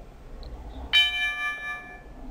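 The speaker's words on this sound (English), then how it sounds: "Bells." A bright bell sample struck once in an FL Studio beat, ringing out with a sharp attack and clear sustained tones that decay slowly over quiet low background sound.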